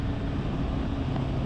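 Wind rushes past a rider on a Honda Hornet 1000 SP motorcycle as a steady, dull roar that blankets everything, with no voice over it.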